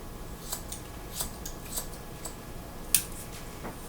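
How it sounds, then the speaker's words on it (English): Scissors trimming a boy's hair in a string of quick, light snips spaced about half a second apart, close and clear against a quiet room, one sharper cut near the end. "And we're just trimming his hair"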